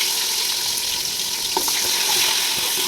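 Onion and green chilli fry in a pan for a veg dum biryani, giving a steady close sizzle with a few light clicks and stirring touches, no voices.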